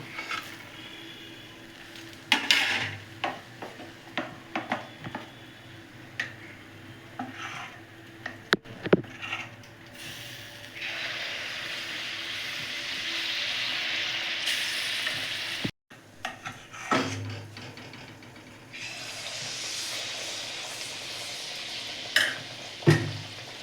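Palm-fruit malpua batter fries in hot oil, a continuous sizzle rising and swelling in bursts, interrupted by frequent spatula knocks and scrapes against the pan and a few louder clatters.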